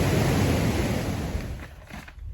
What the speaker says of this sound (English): We need this rain so bad, but it's a lot coming down at one time.